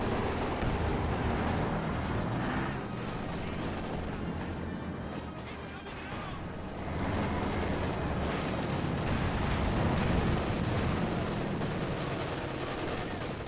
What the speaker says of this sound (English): Katusha Barrage running on in